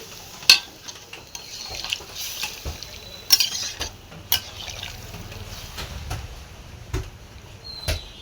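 Water is added and stirred into a pointed gourd and prawn curry in a pan, with metal utensil clinks and scrapes, light sizzling and sloshing, spaced irregularly with no talk.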